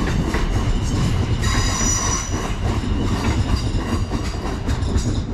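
A passenger train, a service to London Waterloo, rumbles loudly through a Hampshire railway station, with wheels rattling over the rails and a high metallic squeal running throughout, close and constant.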